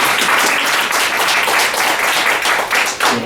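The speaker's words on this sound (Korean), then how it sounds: "우리 박수 한번 치겠습니다." A church congregation claps together during a pastor ordination service, steady and dense applause that stays loud throughout with no voices on top.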